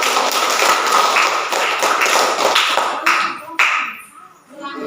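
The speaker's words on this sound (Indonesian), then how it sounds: "kita berikan tepuk tangan" Students in a classroom give a round of hand clapping after a group presents a math problem, a lively patter of claps that thins out and ends with a few last sharp claps.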